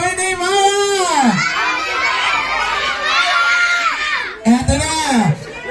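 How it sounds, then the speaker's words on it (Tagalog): Crowd of guests at a child's first birthday party shouting and cheering together, loud and close, with children's voices mixed into the chorus and a brief pause before a second burst. "At once again yung malakas, sigaw nyo muna si happy birthday, Maya!"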